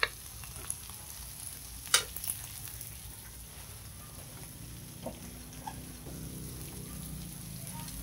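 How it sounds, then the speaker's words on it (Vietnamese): Oyster mushrooms tossed into a hot pan with onion and garlic, giving a steady soft sizzle with a few sharp clinks of utensils near the start and light stirring noises later. "Mình cứ cho vào cái chảo nấm bào ngư của mình luôn."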